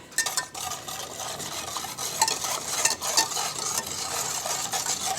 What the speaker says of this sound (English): combine the pudding mix and the water in a saucepan and cook, stirring constantly until it boils